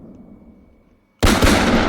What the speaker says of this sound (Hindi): और इसके बम गोले बरसने लगे, धड़ाम धड़ाम।